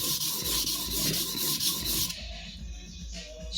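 A steady, rhythmic rasping of a sujihiki blade stroked back and forth across a 400 grit whetstone, then a quieter, smoother stretch of scraping.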